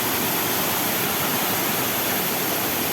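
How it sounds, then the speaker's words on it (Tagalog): Steady, dense roar of the Tai Tam waterfall in Hong Kong, loud and continuous with no breaks, close by and alone without voices. "Baka dyan ay falls din yan"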